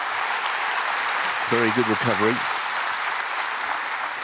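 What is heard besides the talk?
snooker audience applauding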